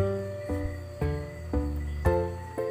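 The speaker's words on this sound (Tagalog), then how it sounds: "nagagandahan ba kayo sa tunog ng kuliglig ko" Crickets make a steady, shrill drone that rings continuously, pulsing in regular bursts about twice a second, close and fairly loud.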